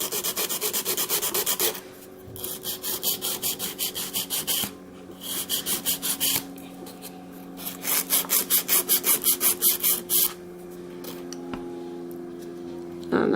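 A file rasps back and forth over encapsulated glitter acrylic nails in rapid bursts of scratchy strokes, pausing between passes, close up, with a faint tonal hum in the background.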